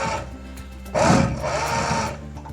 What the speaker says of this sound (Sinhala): ඔයාලට පේනවා මැෂින් එකේ ස්පීඩ් එකත් ටිකක් පුර වැඩි වෙලා තියෙනවා.